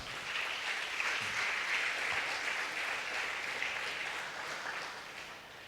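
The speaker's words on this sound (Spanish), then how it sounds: "Denles aplauso al Señor." Church congregation clapping during a Spanish-language sermon, a sustained, even wash of applause heard from a moderate distance, easing slightly toward the end.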